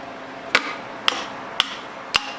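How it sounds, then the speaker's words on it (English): Four sharp metallic hammer knocks on a wrench during Subaru STi exhaust and turbo removal ring out at a steady, even pace, each a bright clank with a short ring and quiet between strikes. "Give it a knock with a hammer."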